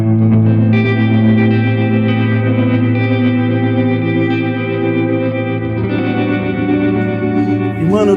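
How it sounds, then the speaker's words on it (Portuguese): Electric guitar played through an MK-300 multi-effects unit on a tremolo preset with delay and reverb, giving loud, sustained chords with washing echoes and a steady pulsing shimmer for about eight seconds, with no talking. "eu tô no preset 2, tá? Que é o trêmulo. Eu utilizo ele aqui com um delay e um reverb"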